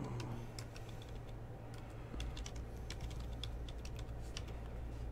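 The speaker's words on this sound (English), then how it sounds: "let me type something in here" Keys clicking on a computer keyboard in a quiet room, scattered taps that turn into quicker bursts of typing over a low steady hum, close to the mic.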